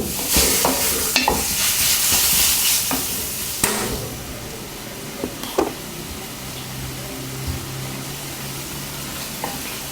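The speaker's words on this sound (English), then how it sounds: "Add the minced meat and stir fry until it turns color." Minced meat stir-fried in a wok while cooking Chinese-style fried tofu, with a steady close sizzle and several sharp scrapes and clacks of the spatula, loudest in the first few seconds.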